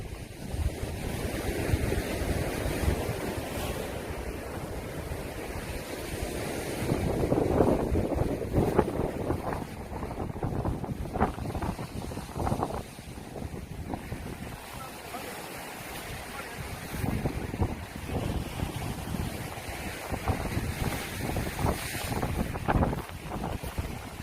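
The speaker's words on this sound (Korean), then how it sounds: "바람이 너무 많이 불어서" Strong wind at a seaside fishing spot roars and buffets the microphone without pause, loud and close, over the sound of sea and waves. A voice is faintly present at times.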